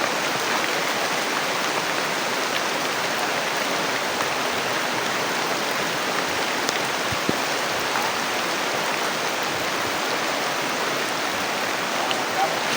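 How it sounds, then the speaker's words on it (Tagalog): Dense, loud rain pours down without letup, a constant hissing roar of water close by for the whole stretch. "Grabe. Lakas ng ulan tol,"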